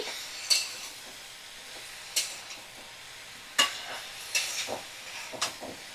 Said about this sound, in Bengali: আমি পাঁচ মিনিট এইভাবে নাড়াচাড়া করে ভেজে নেব